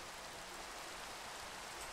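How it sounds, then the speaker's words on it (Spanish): Rain falls steadily in Minecraft, a soft, even hiss of drops with no breaks, faint and with no one talking over it. "¿Y está lloviendo?"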